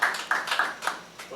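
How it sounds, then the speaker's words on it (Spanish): A few scattered hand claps ring out at a conference tribute, sparse and uneven, about five distinct claps over a second or so, moderately close with no talking over them. "Un aplauso al poeta coronado Vicente Espinal"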